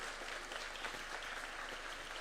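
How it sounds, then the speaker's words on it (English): Steady applause from a crowd at the Africa Forward Summit, a dense continuous patter of many hands clapping at moderate volume. "Why don't we give them a clap as they come in"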